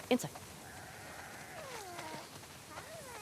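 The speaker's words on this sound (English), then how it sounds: "We definitely have way too many sheep." Several sheep bleat in short, wavering calls over a few seconds on a farm, with a voice speaking faintly among them.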